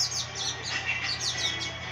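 Lined seedeater chirping and singing at night, a run of quick bright repeated tweets and trills close by, loud and continuous with no voices.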